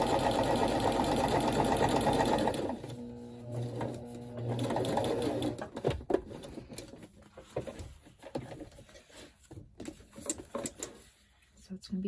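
A sewing machine stitches along journal pages, its motor whirring loudly in a steady run before breaking into shorter bursts of stitching mixed with handling noise.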